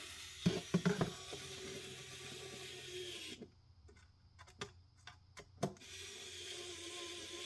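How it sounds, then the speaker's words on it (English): Close, light ticking and ratcheting clicks come from tightening screws on a radio mounting plate, irregular and sparse, with a couple of sharper knocks and a low background hum. "I start tightening these down"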